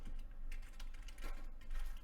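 Typing a note on a computer keyboard, a quiet run of irregular key clicks close by with no voices.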